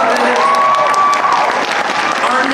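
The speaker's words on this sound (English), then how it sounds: "One more round of applause." Audience applause fills a cosplay masquerade contest hall, a dense, steady wash of clapping and some cheering, loud and close, with a voice briefly audible over it.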